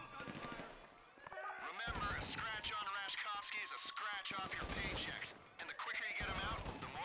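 Gunfire from a tactical shooter match rattles in quick bursts and single shots, with players talking excitedly over and between the shots.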